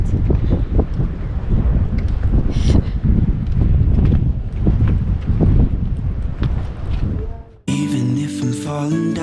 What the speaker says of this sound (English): But it's so windy, so be careful if you're wearing a hat or something like that.